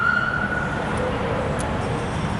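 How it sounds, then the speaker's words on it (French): A fire engine siren wails loudly nearby in a park, a steady rising and falling tone over rumbling traffic noise. "je pensais que c'était une ambulance qui passait, mais non, c'était pas une ambulance, c'était les pompiers."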